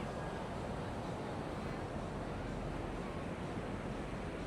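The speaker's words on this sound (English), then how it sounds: "I can see beautiful waves breaking out there." Big waves two to three meters high breaking at Da Nang beach after a storm, a steady broadband roar of surf and wind noise filling the whole stretch without pause.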